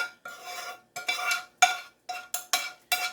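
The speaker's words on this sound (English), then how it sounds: "We're going to add this onion flavor and celery and peppers to our mix." Onion, celery and peppers go into a pot of beef with a series of short, sharp clattering scrapes and stirring bursts, separated by brief pauses.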